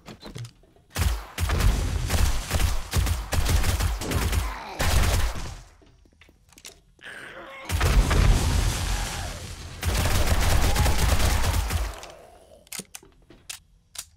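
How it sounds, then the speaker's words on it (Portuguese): Rapid bursts of gunfire from the survival game 7 Days To Die, loud and close, firing in clusters of quick shots broken by short pauses, with no talk over them. "Que delícia da tiro desse jeito."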